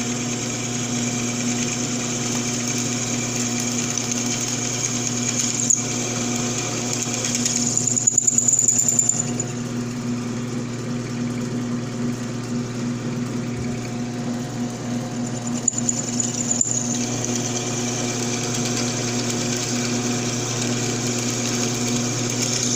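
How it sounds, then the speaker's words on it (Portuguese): A lathe drives a 10 mm drill bit through metal, making a steady, close mechanical hum with a high whine, and a few brief louder squeals as the bit bites. "Porque essa furação é muito grossa, né? Uma broca de 10 milímetros"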